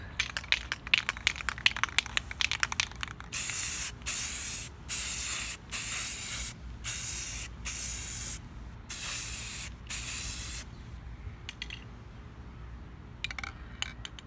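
A rapid series of clicks and rattles, then a spray can hisses in about eight short, steady bursts separated by brief pauses, close by in a spray booth.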